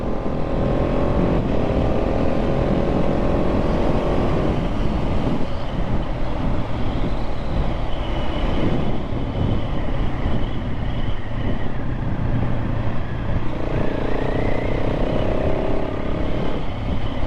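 A KTM 690 SMC-R single-cylinder supermoto ridden along country roads roars continuously from close range, its engine note rising and falling with throttle and gear changes under heavy wind rush.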